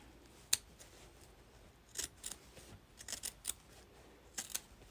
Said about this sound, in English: Now I'm going to cut down the middle, but I just eyeball it.